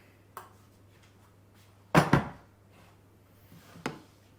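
Lasagne sauce being stirred in a pot, a few distinct spoon knocks and scrapes against the pot, one louder clattering burst in the middle, otherwise quiet.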